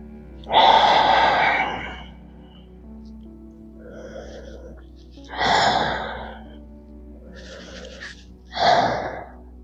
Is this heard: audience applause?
no